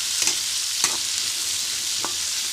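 Garlic and onion frying in a pan for a Malabar-style egg roast, a steady soft sizzle with a few brief spatula scrapes, close by and alone with no voices.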